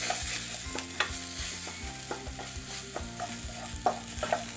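Coarsely ground green pea filling with other ingredients is sautéed in a pan on a low flame, a spatula scraping and stirring in a steady rhythm over a soft, continuous sizzle.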